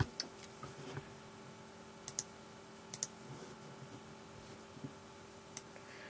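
A computer mouse clicks a few times, sparse and quiet, while text is cut and pasted. The clicks sit over a low steady hum and no one speaks.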